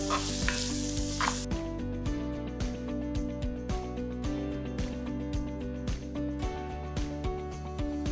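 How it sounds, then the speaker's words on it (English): Sliced onions sauté with salt in a pan for a truffle masala biryani, a close sizzle overlaid by steady rhythmic background music with repeated beats, no speech. "adding a little bit of salt while sauteing onions"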